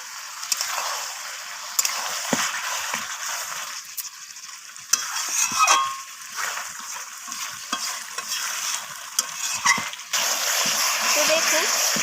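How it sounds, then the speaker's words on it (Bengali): Chicken curry with fried potatoes is stir-fried in a pan, with spoon scrapes and steady sizzling, clattering on and off and close up over a constant frying hiss. "তো আলুগুলো দিয়ে আমি আবারও সমস্ত কিছু কষিয়ে নিচ্ছি।"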